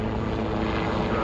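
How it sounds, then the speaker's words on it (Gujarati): A helicopter flies over a farm, its rotor and engine drone steady, loud and close for a brief moment with no voices. "અમારે વાડીએ પણ જો આમ હેલિકોપ્ટર આવે"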